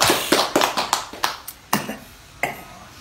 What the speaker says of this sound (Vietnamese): các vị vỗ tay chúc mừng cho cụ